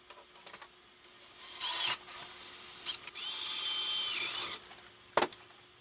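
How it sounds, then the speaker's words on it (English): A power drill whirs in short bursts, then runs steadily for over a second as it bores a hole through a Ghostbusters Spirit Proton Pack prop, followed by a sharp click. "we're going to drill a hole at the top and bottom of what they call the ladder"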